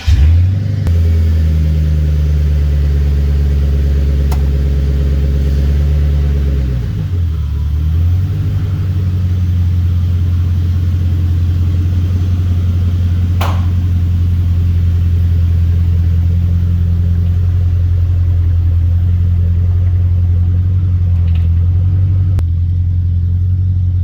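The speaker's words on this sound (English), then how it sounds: "take you for a little ride so you can see what the TAZR's like to drive" A TAZR vehicle on a test drive gives off a loud, steady engine rumble close by. The pitch climbs early on, dips briefly, then holds a constant cruising drone.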